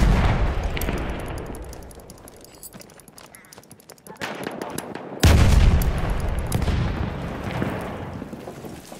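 Grenade blasts and rapid gunfire sound in a video game firefight, first as a dense crackle, then a sudden heavy boom followed by continued loud shooting.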